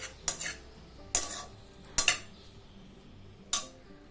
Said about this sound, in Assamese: দি গোটেইখিনি ভালদৰে সানি লওঁ